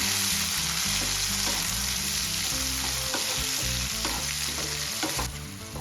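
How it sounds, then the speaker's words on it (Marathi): Tomatoes sautéing with golden-browned onions in a pan for a Bombay duck curry, a dense, loud, continuous frying hiss with stirring clatter, close by and with no talking. "आता आपल्याला टोमॅटो छान मेल्ट होईपर्यंत परतून घ्यायचे आहे"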